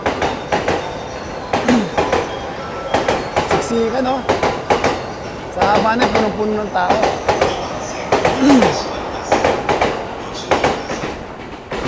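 A Tokyo commuter train rumbles past with rhythmic clickety-clack of wheels and occasional squeals, loud and close, while a person talks over it.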